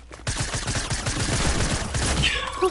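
Rapid automatic gunfire in a video game, a continuous rattling burst of many evenly spaced shots, loud and close for over two seconds, then stopping.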